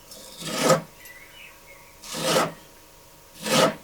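Three separate bursts of rough, rasping cutting strokes from a Kh12MF steel knife cutting rope, close up, with short pauses between them and faint background noise.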